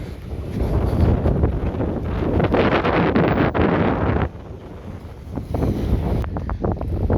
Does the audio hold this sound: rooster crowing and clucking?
no